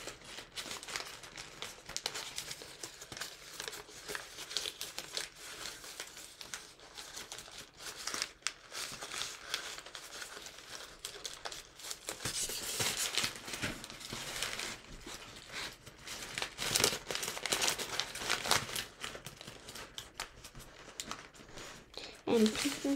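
Paper is folded and creased to make the legs of an origami wasp, with steady close crinkling and rustling throughout as a person talks over it.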